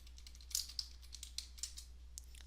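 Password typed on a computer keyboard, a short run of faint, irregular key clicks over a quiet background hum.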